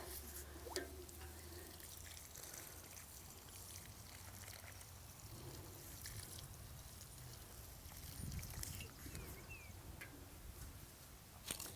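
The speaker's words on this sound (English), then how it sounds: "And then we'll water that one in as well." A newly planted garden plant is watered outdoors: a faint, continuous trickle and patter of water soaking into soil, with occasional drips and light background noise and no talk.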